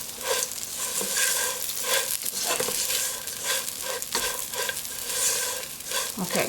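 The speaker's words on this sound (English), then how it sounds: "Now I'm going to mix everything together." Rhythmic stirring and scraping in a hot pan as vermicelli, syrup and slivered almonds are mixed together, with a soft sizzle throughout and repeated utensil strokes close by.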